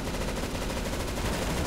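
Rapid gunfire in the video game CS:GO Arms Race, a dense burst of loud, continuous automatic shots with no pauses and no speech.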